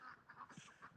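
Ducks on a farm quacking in quick, nasal bursts, several calls in a row at moderate distance, fairly faint.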